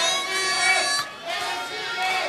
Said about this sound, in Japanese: 後楽園ホールからはノア初参戦の ACH に大きな歓声が送られます